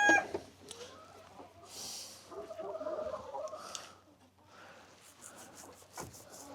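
A flock of chickens in a coop on a farm clucking and murmuring softly at a distance, steady low chatter with a few faint rustles, no one speaking.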